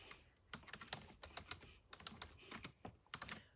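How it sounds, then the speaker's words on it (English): Quiet typing on a computer keyboard, a run of irregular close keystroke clicks with short pauses between bursts. "So I'm simply typing in,"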